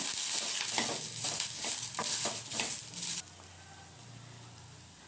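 Curry leaves and spices fry in hot oil for a ridge gourd skin chutney, giving a close, crackling sizzle with stirring scrapes that drops to a quiet hiss after about three seconds.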